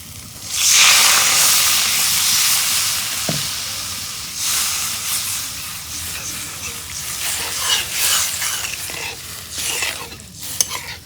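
Water poured into hot, oil-fried spices for an egg curry gravy sets off a loud burst of sizzling that settles into a steady hiss with stirring scrapes, close by.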